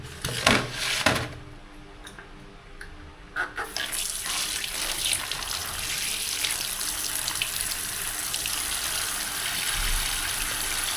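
Tap water runs steadily into a sink or basin to soak a piece of frozen chicken for defrosting in a small rental room, with a few brief knocks at the start before the flow settles into a continuous hiss.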